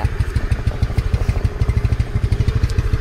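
A motorcycle engine running close by: a loud, low, rapid pulsing throb with a steady beat, with no voices.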